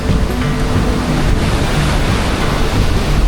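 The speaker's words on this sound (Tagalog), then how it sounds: "grabe umaakit ng alon" Sea waves surge onto the shore at Real, Quezon in strong wind, heard as a loud, continuous roar of surf mixed with wind noise on the microphone.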